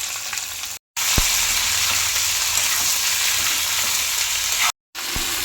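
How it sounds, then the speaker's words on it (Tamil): Tomato, onion and spices sauté in a pan for a crab gravy. A loud, steady hiss of frying fills the clip with occasional spoon knocks. It drops out briefly twice and then returns. "இப்போ தக்காளி வெங்காயம் எல்லாத்தையும் போட்டு வதக்கலாம்"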